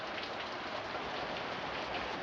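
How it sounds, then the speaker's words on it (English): Heavy rain pours in Long Beach, a dense, steady hiss of water falling and streaming off a roof, continuous and loud with no voices. "a lot of rain"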